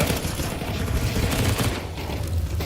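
Scout rifle gunfire in Counter-Strike, dense bursts of shots and game effects blending into a loud, busy stretch of combat noise with no talking.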